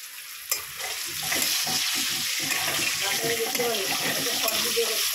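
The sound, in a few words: potatoes frying in a pan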